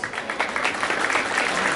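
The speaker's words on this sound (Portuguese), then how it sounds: "Palmas, palmas." Crowd applause at a Brazilian street rap battle, the Batalha Da Leste, as a steady dense wash of claps and cheering that fills the whole moment with no pause.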